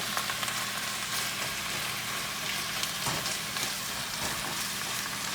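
Peppers sizzle steadily in hot oil in a pan, a dense, constant frying hiss that stays close and even throughout with no voices over it.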